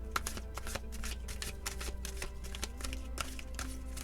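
Tarot cards that stick together are shuffled in rapid, continuous riffling flutters with sharp slaps, close and steady for several seconds with no talking.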